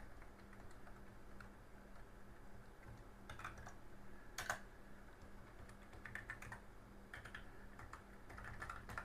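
Keys clacking on an Atari ST / Falcon computer keyboard that needs extra force to press, with steady typing and a few sharper, louder keystrokes over a quiet room hum.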